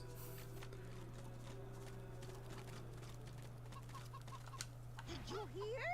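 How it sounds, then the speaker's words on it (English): Chickens clucking in the fantasy role-playing game Divinity: Original Sin 2, soft scattered clucks over a steady game ambience hum, rising into a brief burst of louder fowl calls near the end. "Oh no, chickens."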